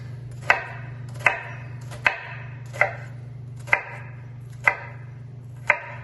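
A knife dices an onion on a cutting board, with seven evenly spaced, crisp chops close by over a low steady hum.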